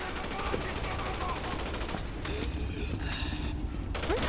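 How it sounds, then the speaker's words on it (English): Rapid automatic gunfire from the shooter game Resident Evil 6 rattles steadily through the whole stretch, dense and fairly loud, with game noise and a muffled voice underneath. "who's shooting me?"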